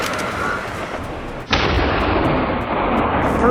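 A hunter fires a gun at a charging boar on a forest path at night, a single loud, sharp shot followed by a sustained rumbling echo over steady background noise.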